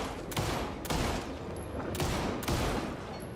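Gunshots from a firearm in Alan Wake II: four sharp, loud shots spaced about half a second apart, each cracking and then trailing off into a short echo, with no voices.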